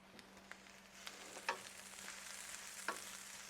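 Paprika and turmeric toast in a pan with tomato paste for a paprika sauce, giving a faint steady sizzle with a few soft clicks of a utensil against the pan.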